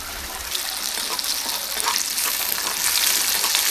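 Garlic, ginger and onion frying in oil in a pan on a wood stove, a loud, continuous hissing sizzle that swells slightly, heard up close with no talk.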